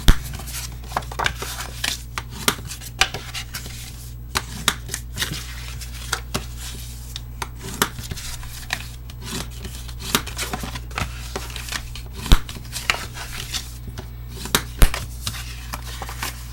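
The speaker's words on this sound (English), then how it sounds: "Burnish and fold and burnish all score lines." Cardstock being burnished and folded along score lines for an autumnal chocolate box, heard as close, irregular sharp rubs, creases and taps repeating throughout with no talk.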